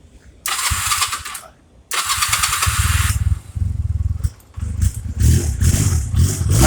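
A small engine, likely a motorcycle, cranks and catches in several bursts once its fuel is turned back on, stuttering, dropping out and restarting before settling into a rough, close, loud run.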